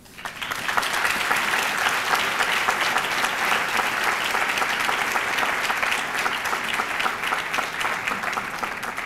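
A conference audience applauds as a speaker steps to the podium at an award ceremony for the Abraham Krasnoff Courage and Commitment Award, sustained even clapping from a large crowd lasting several seconds without a break.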